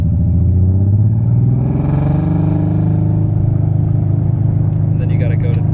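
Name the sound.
Nissan 300ZX car accelerating in first gear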